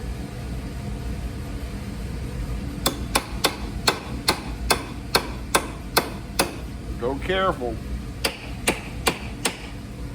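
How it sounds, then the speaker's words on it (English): Hammer blows on metal parts clamped in a vise, a steady series of sharp, evenly spaced clanks, about a dozen in all, with a short pause partway through, over low workshop rumble, while someone briefly speaks. "a lot of times you got to take a wrench or a hammer to knock these apart."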